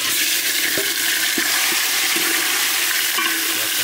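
Marinated meat sizzles in hot oil with browned onions in a village-style chicken pulao pan, a loud continuous hiss and crackle with a few scraping stir strokes.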